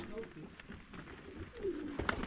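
Pigeons coo softly in a hidden coop in Ankara, giving low, throaty rolling calls that sit close and faint against a murmur of background voices.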